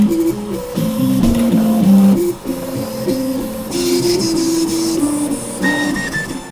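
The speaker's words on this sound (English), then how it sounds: "For the last few weeks, I've been working on making my 3D printer do this." A 3D printer's stepper motors play the melody of Für Elise, clear tonal notes stepping up and down in a steady rhythm, loud and close, with faint whirring and hiss beneath and no talking.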